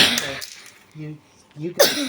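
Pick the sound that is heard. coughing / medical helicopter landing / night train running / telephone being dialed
coughing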